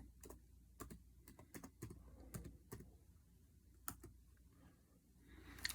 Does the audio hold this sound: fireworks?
no